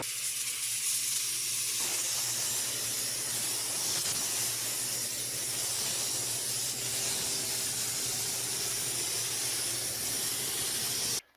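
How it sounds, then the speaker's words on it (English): A spray gun lays clear coat onto a truck with a steady, close, continuous hiss that holds evenly for about eleven seconds before cutting off abruptly. "I can spray the clear coat now"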